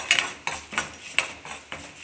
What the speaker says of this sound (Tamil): ஊற்றிக்கோங்க, வதக்கி விட்டுக்கோங்க.